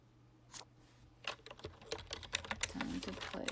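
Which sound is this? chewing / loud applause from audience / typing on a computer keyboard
typing on a computer keyboard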